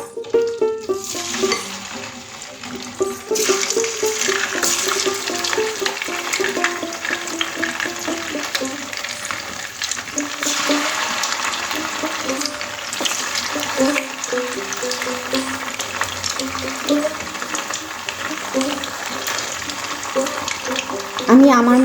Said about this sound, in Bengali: এবার যে মাংসটা ম্যারিনেট করে রেখেছিলাম ওগুলো আমি ভেজে নেব।